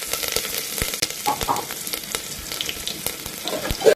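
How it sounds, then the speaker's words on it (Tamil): Onions, green chillies and curry leaves sauté in hot oil for a ridge gourd curry, giving a steady close sizzle with scattered sharp crackles and pops throughout, and no voices. "வெங்காயம், பச்சை மிளகாய், கருவேப்பிலை போட்டு வதக்குங்க"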